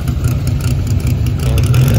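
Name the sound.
vintage Ferrari engine with side exit pipes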